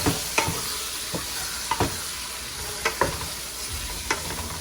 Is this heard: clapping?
no